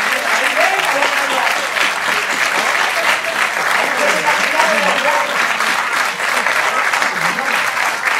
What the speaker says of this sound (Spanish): Fuerte el aplauso para él también.